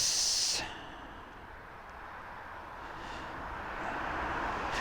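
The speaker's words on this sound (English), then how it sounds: "We've got an aircraft bobbing in." Broad, steady aircraft engine roar from a plane on final approach to land at East Midlands Airport, a distant, even rumble that swells slightly as it nears after a brief hissy burst at the start.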